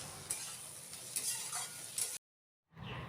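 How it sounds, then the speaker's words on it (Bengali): Small-cut eggplant pieces frying in fish oil and being stirred, a quiet hissing sizzle with light spatula scrapes, cut by a brief silent gap before the frying resumes. "এবার খুব ভালো করে নাড়াচাড়া করে নিচ্ছি একটু।"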